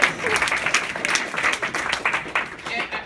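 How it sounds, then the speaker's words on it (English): Audience giving a round of applause after an improvised comedy performance with a robot, a fairly dense burst of clapping that rises and falls slightly, heard at moderate level in a room. "give it a round of applause."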